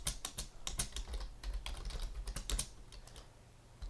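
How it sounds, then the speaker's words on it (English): Typing on a computer keyboard while coding in Python, quiet rapid key clicks in uneven bursts, close up, with no talk. "I'm just going to type it inter."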